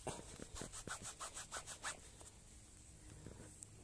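An old Napoleon-era coin, found in the field, is rubbed clean with quick back-and-forth scrubbing strokes, about ten rhythmic rasps in the first two seconds before the sound fades to quiet handling.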